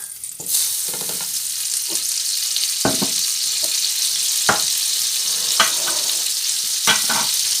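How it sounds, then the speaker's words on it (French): Sausages frying in butter in a pan, a steady loud sizzle throughout with repeated sharp knocks and scrapes of a utensil turning them, close up and with no talking. "avec la moitié de ce qu'on a comme beurre, on va cuire nos saucisses."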